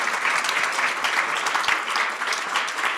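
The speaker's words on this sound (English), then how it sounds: "Make a round of applause," A conference audience claps after a panel discussion on cultural diversity, dense sustained applause from many hands filling the room, with no speech over it.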